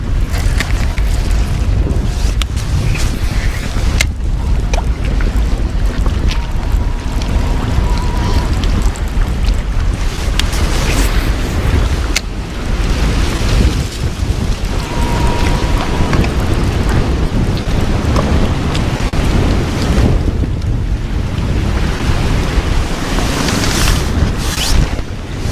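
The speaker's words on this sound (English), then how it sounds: "Wind's getting a little ridiculous" Strong wind buffeting the microphone on a lake during spring bass fishing from a boat, a loud, steady roar with water slapping the hull throughout, no talking.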